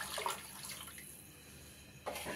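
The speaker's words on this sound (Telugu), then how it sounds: "2 బౌల్ నీళ్ళు పోస్తున్నాను" Water poured from a bowl into a pan for making kesari, a brief close splash and trickle with a louder burst at the end.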